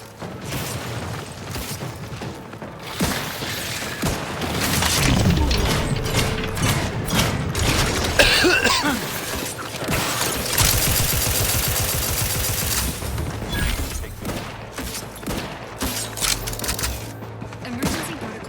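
Sustained gunfire in the video game The Outer Worlds 2, dense bursts of shots and mechanical clatter running continuously, with game sounds layered through the mix.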